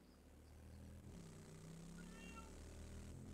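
A house cat meows a few times, quiet and close, over a low steady hum with no talking.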